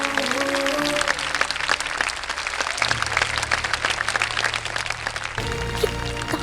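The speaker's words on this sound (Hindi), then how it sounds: "ताली बजाइए ना, बाबूजी को स्टेज पर बुलाएं।" Audience applause on a stage set as a guest is welcomed, a dense steady clapping that runs the whole time under background music swells.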